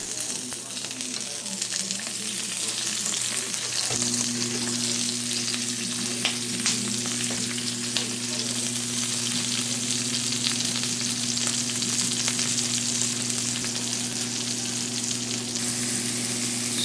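Oil sizzling and crackling steadily in a hot pan before garlic, onion and tomato go in for shrimp with ampalaya, a close, continuous fry with a low hum joining partway through.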